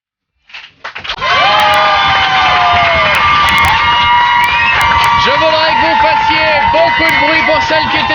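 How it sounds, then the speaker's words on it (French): A studio audience at a radio show cheers and shouts loudly for a departing guest, a dense, sustained crowd roar with whoops and high shrieks that builds within the first second and holds steady throughout. "Beaucoup de bruit pour celle qui était notre invitée, Jennifer."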